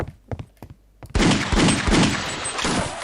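Rapid gunfire from Half-Life: Opposing Force bursts out loud and close after a few sharp isolated thuds, sustaining a dense, rattling volley that continues to the end.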